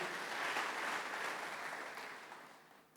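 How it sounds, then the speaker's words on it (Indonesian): Congregation applauding during an online church service: soft, distant, dense clapping that swells briefly and then fades out over a few seconds, with no voices over it. "beri tepuk tangan kepada dia"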